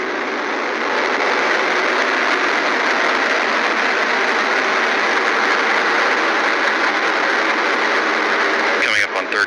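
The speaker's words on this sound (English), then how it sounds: "the RD-180 is throttling down as expected" An Atlas V rocket's RD-180 engine roars through launch as a continuous, dense broadband rumble at steady loudness, with a radio-style voice running underneath it.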